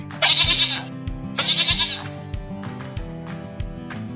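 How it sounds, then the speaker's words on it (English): A goat bleats twice in loud, wavering cries, each under a second long, over a steady backing of simple music notes. "Goat."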